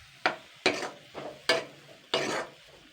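An onion and Maggi masala filling is stirred in a frying pan, giving five sharp scraping strokes in an uneven rhythm. Each stroke is close and clear over a faint background, with no talking.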